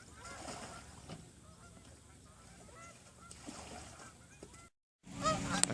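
Canada geese honk repeatedly at a distance over a lake, a scattered chorus of calls against faint outdoor ambience, broken by a brief gap and then a louder rush of noise.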